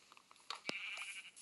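A sheep in the Minecraft video game lets out a faint bleat, a short wavering cry rising over quiet background clicks.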